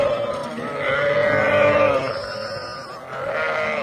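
Sheep bleating close by, one long wavering bleat followed by a shorter second call, with faint background voices.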